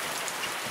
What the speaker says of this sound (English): I was videotaping the hail